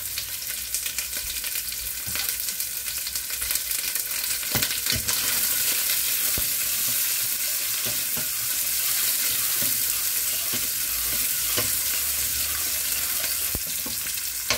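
Garlic, ginger, onions and vegetables frying in a pan, with a steady close sizzle and crackle throughout and repeated sharp scrapes of stirring.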